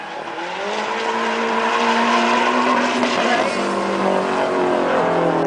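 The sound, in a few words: drift car tire squeal and skid, Yokohama tires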